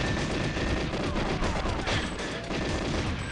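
Dense, continuous automatic gunfire from the Nintendo 64 game GoldenEye 007, with bursts of shots rattling steadily and loudly from start to finish and no pause in the firing.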